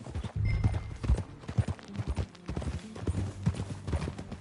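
Rapid clip-clop of horse hooves galloping in the video game Red Dead Redemption 2, loud and close, with a steady driving rhythm and a faint voice briefly underneath.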